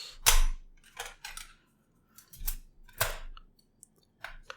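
Plastic battery compartment cover on the back of a Logitech K380 wireless Bluetooth keyboard being opened, a sharp close snap followed by several lighter clicks and scrapes, spaced irregularly with quiet gaps between.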